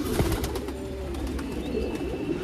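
Soft, repeated low cooing from a white pet pigeon, steady and close, continuing through a quiet background with no talking.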